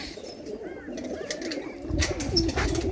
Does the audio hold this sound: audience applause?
no